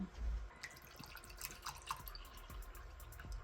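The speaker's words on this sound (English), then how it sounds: "let's put some water in the glass so we can make sure that our design is going to be level." Water trickles and drips into a glass mug at close range, faint and irregular, with small splashes and a few clinking knocks scattered through.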